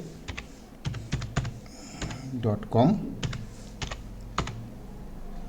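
Keyboard typing in irregular bursts of clicks, close and fairly loud, with someone speaking briefly in the middle.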